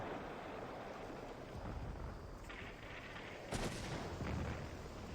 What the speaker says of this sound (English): It's only 75mm guns. It's not the heaviest artillery there.